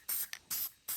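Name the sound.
spraying guide coat on car bodywork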